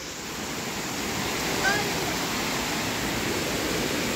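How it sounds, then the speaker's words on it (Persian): Rushing water of the waterfall at Ganjnameh near Hamedan, Iran pours as a dense, constant roar, loud and unbroken from start to end. "این هم از اون آبشاری که گفتم"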